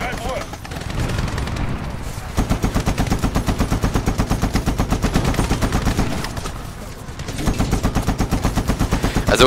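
Sustained rapid automatic gunfire and explosions in the Medal of Honor video game, long rattling bursts that pause briefly and resume, loud and close, with a voice talking over the chaotic combat.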